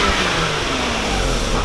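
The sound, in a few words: Lexus IS300 stock exhaust revving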